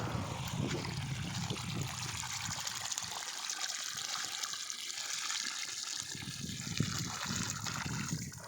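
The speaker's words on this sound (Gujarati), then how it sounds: "જો આ પાણી પાવાની કામગીરી ચાલુ છે" Irrigation water flowing among trees in summer, a steady rushing trickle and gush that stays fairly loud and continuous from start to finish.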